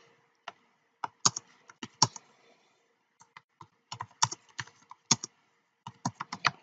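Sparse, uneven keyboard typing while writing text into a WordPress page: single clicks and short clusters of keystrokes separated by quiet gaps, crisp and close.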